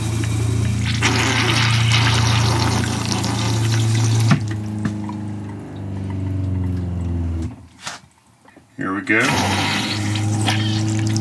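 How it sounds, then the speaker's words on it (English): A new RV toilet with a 360-degree swirl rim flushes, its water rushing loudly and steadily for several seconds, then fading to near silence before another gush starts. Someone speaks briefly over the start. "You can see water come out all the way around for a good flush."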